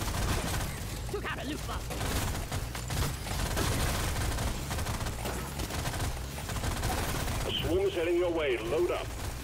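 Pistol fire in the video game Deep Rock Galactic Survivor, a dense, steady stream of rapid shots running throughout under a continuous bed of game noise, with a short burst of musical tones near the end.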